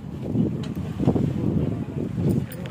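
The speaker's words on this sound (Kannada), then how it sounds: "ಗಾಳಿ ರೀ" Wind blows across the outdoor hillside Sri Mula Nagadevata shrine at Bettadasanapura, buffeting the microphone in low, uneven gusts that surge and ease over a few seconds, with no clear talk.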